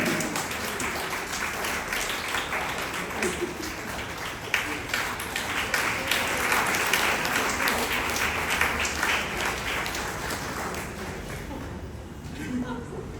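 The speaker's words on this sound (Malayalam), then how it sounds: "എല്ലാവരും ഒന്ന് കൈയടിച്ചേ." A crowd applauds steadily for most of the stretch, a dense wash of clapping that swells slightly and then fades out near the end.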